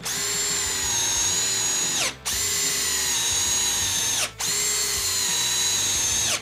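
Hercules cordless drill driving a screw, its motor whining steadily and loud in three long runs separated by two brief stops, with no talking.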